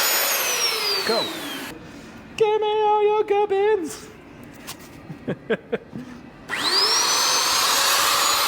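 A power drill boring through a bell frame beam at Taylors Bell Foundry, with two loud whining bursts at the start and end and people talking in between.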